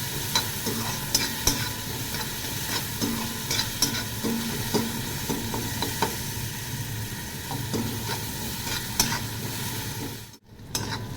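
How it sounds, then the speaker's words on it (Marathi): Cabbage with asafoetida being stirred in a frying pan gives a continuous close sizzle, with spatula scrapes and taps along the way and a brief drop in sound near the end. "आता याच्यामध्ये टाकूया आपण हिंग. छान मिक्स करून घेऊया आपण."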